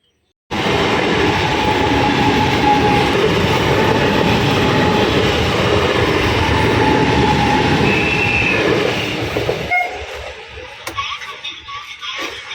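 A train passes close by with a steady, loud roar and rattle of rolling wagons that holds for several seconds, then drops away to quieter background sounds.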